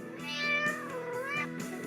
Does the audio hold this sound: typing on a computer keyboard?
no